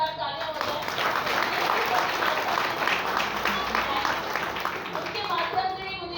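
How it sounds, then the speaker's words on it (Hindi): An audience at a motivational event applauds, sustained close clapping across the whole stretch with faint voices underneath. "उनके लिए मैं चाहूँगी जोरदार तालियां हो जाए"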